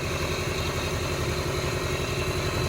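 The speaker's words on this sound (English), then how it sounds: "it is backfiring quite a bit" A Subaru engine idles nearby with a steady, rough, continuous drone and some clattering texture; distinct backfire pops are not clearly separable from the running noise.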